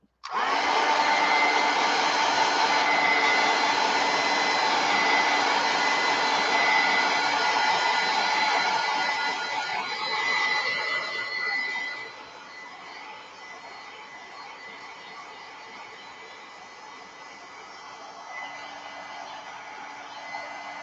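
A hair dryer blows steadily up close to dry gesso on a mixed media art piece, a loud continuous whirring hiss that softens partway through as it moves or drops to a lower setting.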